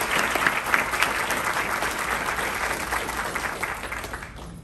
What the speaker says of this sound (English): Can we give ourselves just a huge round of applause